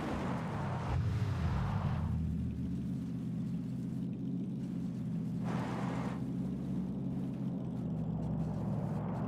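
A car engine in the PUBG video game hums as a low, steady rumble, quiet and continuous, with brief rushes of wind-like noise passing over it.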